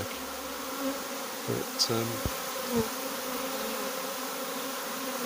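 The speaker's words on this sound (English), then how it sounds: "One or two are buzzing at me" A honeybee swarm buzzes steadily on a late evening in Macclesfield, a constant drone with a few louder passes from single bees close by. One brief spoken word sounds near the start.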